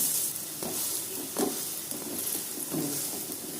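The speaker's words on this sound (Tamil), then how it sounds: "இந்த அளவுக்கு எண்ணெய் ஊற்றினா தான் அந்த ரோஸ்ட்டே வரும்" Thavala adai, a crisp Tamil lentil-and-rice fritter, roasting in a generous pool of oil on a pan, giving a continuous soft sizzle with a few louder bursts of spattering, near and without speech.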